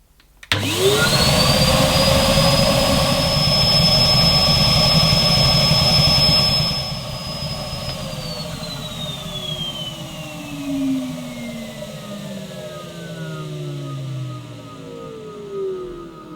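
A Henry Pet XL vacuum cleaner runs with its suction sealed off by a gauge, a loud steady motor whine that holds high, then drops in pitch and winds down with a gradually falling tone.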